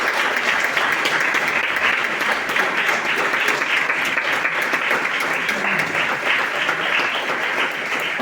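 Steady, full applause from an audience at a talk in Yecla, dense and even throughout with no break.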